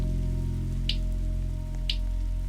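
Constant patter of rain in the Roblox game Daycare Story 2, an even wash under a low steady hum, with two faint brief ticks breaking through.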